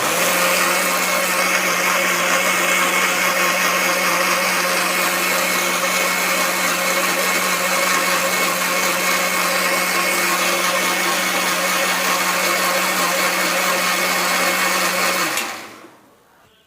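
A mixer grinder whirs steadily, blending fresh coconut chutney into a fine paste, a loud continuous motor drone that holds for about fifteen seconds before cutting off and spinning down.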